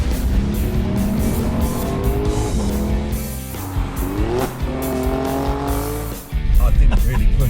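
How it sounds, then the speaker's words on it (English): A KGM Torres engine and exhaust rev hard with rising and falling pitch sweeps as gears change, loud and close throughout, with a sharper surge near the end. "This is how a car should sound."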